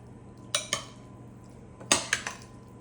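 A utensil gently stirs mayonnaise into a shrimp roll filling in a bowl, giving two clusters of close clinks and scrapes with quiet pauses in between.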